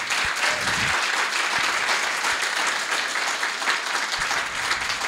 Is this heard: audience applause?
yes